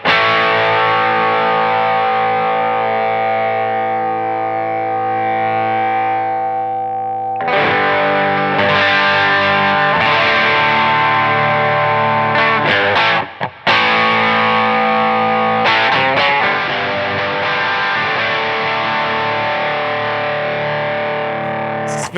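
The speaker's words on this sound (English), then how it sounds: "We're just hearing Klon into BB alone." Electric guitar run through a Klon overdrive into a BB preamp pedal, played as sustained, driven chords. The tone is thick and loud, changes to a new chord partway through, and has a brief cut in the sound. No one talks.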